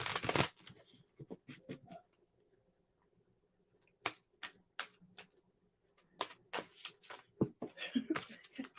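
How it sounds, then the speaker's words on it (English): Wildwood tarot cards shuffled by hand in short, quick bursts of crisp riffling and snapping, separated by quiet pauses, close and moderately soft. "If I can shuffle."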